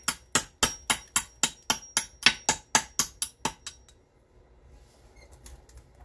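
A flint gunflint is trimmed by knapping in the English method, with about fourteen sharp, evenly spaced taps in quick succession, loud and close, before the striking stops and only faint room noise remains.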